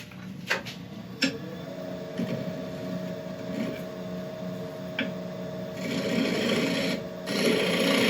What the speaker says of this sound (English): you can run that across at about 45 degrees or even maybe slightly more, and then it becomes more of a shear scrape